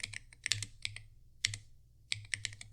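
Typing on an Aula Hero 68 mechanical keyboard, close and crisp, with quick bursts of clacky keystrokes separated by short pauses.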